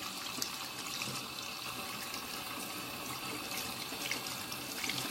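Steady running tap water pours over a brush being rinsed, a soft continuous splashing hiss with no voices.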